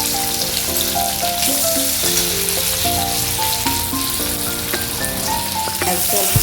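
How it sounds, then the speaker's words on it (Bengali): Onion sizzling steadily in hot oil with cumin and dried red chilli, a continuous crackling fry close by with faint clinks of a spoon against the pan, and no voice. "এবারে আমি তেলের মধ্যে পেঁয়াজটা দিয়ে দিচ্ছি।"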